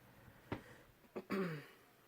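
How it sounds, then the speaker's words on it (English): A quiet throat clearing up close: a short rasp, a pause, then a longer gravelly clearing sound, alone in a quiet room. "Excuse me for clearing my throat."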